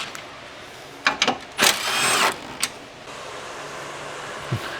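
A cordless impact wrench with a 10mm socket zips out headlight bolts on a 2009 Ford Focus, giving a few short clicking bursts followed by one sustained, fairly loud whirring run of about half a second, then quieter intermittent clicks in a garage-like space.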